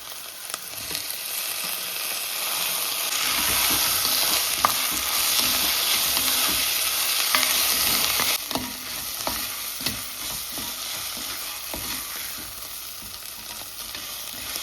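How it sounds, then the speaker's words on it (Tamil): Chopped tomatoes frying in a pan while being stirred, a loud dense sizzle near the mic with scraping stir strokes throughout, easing slightly toward the end. "இப்போ தான் கட் பண்ணி வச்சுருந்த தக்காளி சேர்க்கிறேன்"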